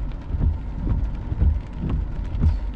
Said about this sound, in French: Éclair, pluie, orage,